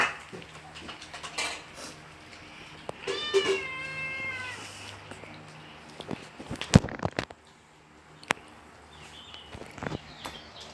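A cat meows in a drawn-out, wavering cry while trying to squeeze into a tight gap, with scuffling, a clatter and sharp knocks as it falls, amid a dog-and-cat scuffle at home.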